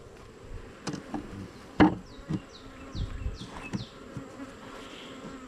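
Honey bees buzz steadily around a five-frame hive box, with occasional knocks and thumps from handling the woodenware and bees zipping past close by.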